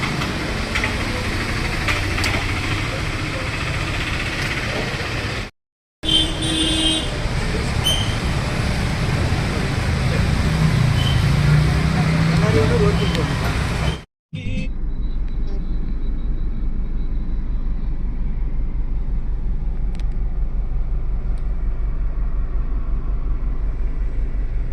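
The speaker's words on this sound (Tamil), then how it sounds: "சரியான டிராஃபிக்காக இருக்குது" Steady heavy road traffic rumbles throughout, with idling engines and passing vehicles forming a dense continuous din, briefly cut twice by short gaps in the sound.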